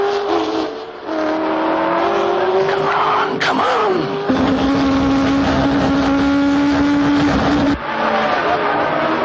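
Race cars roar along a track at a motor race, loud engine notes rising and holding steady with a sharp pass near the middle, while a voice briefly speaks over the noise.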